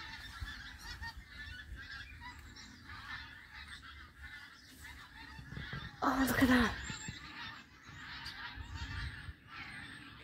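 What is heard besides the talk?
geese honking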